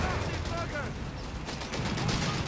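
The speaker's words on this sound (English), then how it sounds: "Strafing on the mortar crew" A strafing run in Company of Heroes 3 hammers a mortar crew with dense, rapid gunfire that sounds continuously through the short burst under a commentator's voice.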